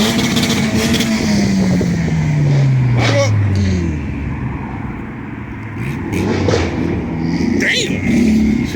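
A Subaru BRZ engine revs hard at a car meet rev and two-step battle, the pitch sweeping down and then climbing again, loud and close amid a shouting, chattering crowd.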